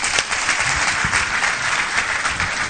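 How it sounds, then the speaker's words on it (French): An audience at a Togolese reality-TV event claps loudly and continuously in close, dense applause, with slight swells in the clapping throughout. "applaudissez pour vous d'abord."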